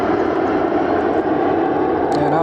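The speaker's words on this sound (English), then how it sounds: "I apologize for the planes flying overhead" Propeller airplanes fly overhead at an outdoor field location, producing a loud, continuous engine drone that holds steady throughout, with a faint higher whine entering near the end.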